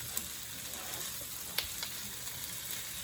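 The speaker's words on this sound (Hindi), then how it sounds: "इसको हमें तेज आंच पे फ्राई करना है" Green bell pepper fries on high heat in a stir fry pan, giving a faint, steady sizzle with a few soft clicks and stirring taps.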